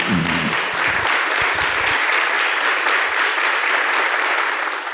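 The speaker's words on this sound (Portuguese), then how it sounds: "Dezenas de pessoas da plateia aplaudem com vigor." Dozens of audience members at a talk applaud vigorously, a dense, steady wash of clapping that stays loud throughout, with a few low thumps near the start and no one speaking.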